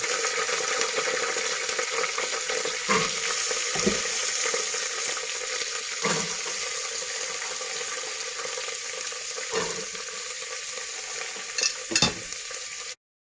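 French beans tossed into a pan of frying cumin seeds, a steady close sizzle with periodic scraping and stirring knocks of a spoon against the pan.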